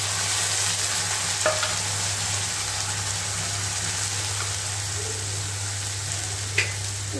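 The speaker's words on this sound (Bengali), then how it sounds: "এটাকে একটু 2-3 মিনিট ভাজা ভাজা করে নেব।" Bombay duck fish fries in oil in a pan with a steady, close hiss and sizzle over a low hum, broken by a few brief stirring scrapes; no voices.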